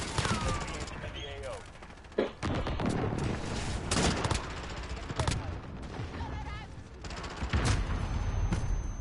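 Gunfire and a precision airstrike in the video game Call of Duty: Modern Warfare, with dense, continuous automatic shooting and repeated sharp blasts filling the scene, plus game voice chatter in the mix.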